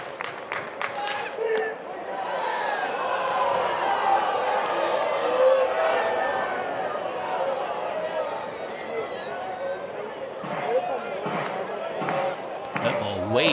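Crowd at a college baseball game, Florida State at Louisville, murmuring and rising in a sustained swell of chatter and cheering, with a commentator's voice talking over it.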